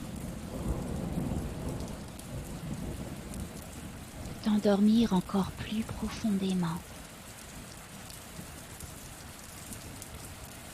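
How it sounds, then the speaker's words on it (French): Steady rainfall with a low rolling storm rumble fills the background as a soft, continuous wash, while a calm voice speaks gently over it for a couple of seconds midway. "au son de la pluie,"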